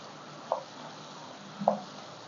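Shallots, garlic and turkey berries sauté in oil with a faint, steady sizzle, broken by two soft stirring scrapes about a second apart.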